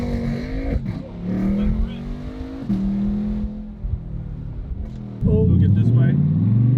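A 2020 Chevrolet Corvette C8 convertible pulls away on a street, its engine revving up through rising gear pulls with a strong surge near the end, heard from inside the car while someone talks.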